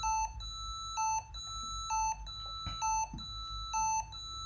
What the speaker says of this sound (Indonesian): Beep ini keluar dari komponen yang bernama buzzer ini.